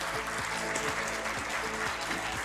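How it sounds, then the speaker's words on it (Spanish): Applause from the audience at an award ceremony in Argentina, a fairly quiet, steady patter of many hands clapping, with rhythmic low thumps pulsing beneath it like background music. "Fuerte el aplauso."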